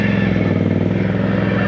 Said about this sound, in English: It's still going, it's pushing all the mud.